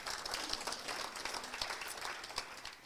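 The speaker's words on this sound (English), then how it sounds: "Give yourself a round of applause for that." Crowd applause at a rugby team launch event, a steady wash of many hands clapping throughout with no voices over it.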